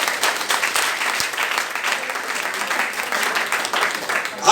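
A church congregation claps and cheers in praise, a dense steady wash of applause filling the room for several seconds, with crowd voices mixed through it.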